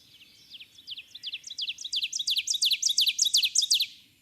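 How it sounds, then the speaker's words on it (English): Ovenbird song, a rapid series of repeated bright two-note phrases that builds steadily louder over a few seconds, heard alone against a faint low background. "This is still ovenbird."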